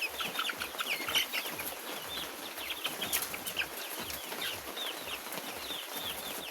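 Chickens of various breeds on a small farm, with steady overlapping clucks and chirps forming a busy, close flock chorus throughout, plus occasional brief wing flutters and no talking.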